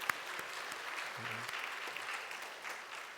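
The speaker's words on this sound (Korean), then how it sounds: "우리 하나님께 감사의 박수." A church congregation at a Korean Sunday service applauds in thanks to God, giving a soft, even patter of many hands that sounds distant and quiet throughout.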